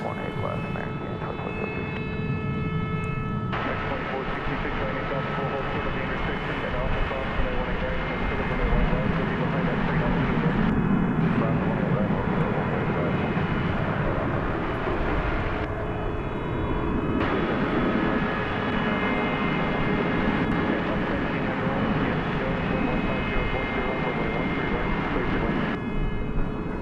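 A jet airliner on the Santa Barbara flight takes off at DFW airport at night, its engines giving a loud, steady roar that holds for the whole stretch, with talk running over it.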